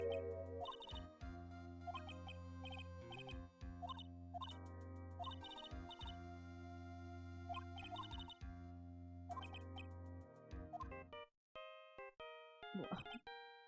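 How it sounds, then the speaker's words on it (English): A phone ringtone plays the Ace Attorney theme from the video game, a bright synthesized melody with steady notes for about eleven seconds, then breaking into scattered chimes; fairly quiet and clear. "I love that his ringtone is the Ace Attorney theme."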